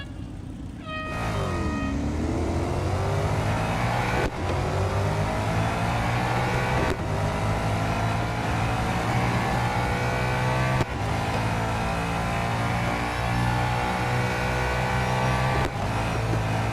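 Race cars in Real Racing 3 drive with a sustained engine drone and rising pitch as they accelerate, gear changes marked by brief breaks, loud and continuous throughout.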